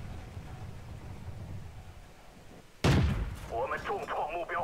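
A tank cannon fires in a video game with one loud, sudden boom near the middle, after a low engine rumble, and a voice speaks right after the shot.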